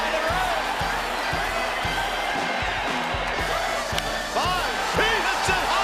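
A baseball stadium crowd roars for a Barry Bonds home run, a dense, steady wall of cheering heard from a distance, with a rhythmic thumping beat running underneath.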